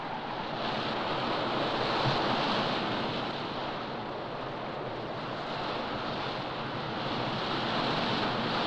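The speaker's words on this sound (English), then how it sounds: "Green and gray and foaming white, the primary colors of a lake that surges with the power of an ocean." Heavy surf churns and surges on a storm-whipped Great Lake, a steady, loud wash of breaking water with wind noise running continuously throughout.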